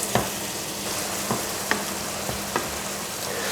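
Steady sizzling of lamb mince frying in a pan with tomato sauce, with a few sharp scraping knocks as it is stirred at irregular intervals.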